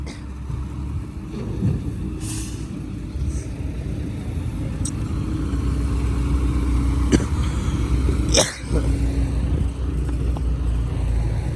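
A truck driving slowly, a low steady engine rumble close by that holds an even pace for the whole stretch, with a few brief knocks and clatters on top.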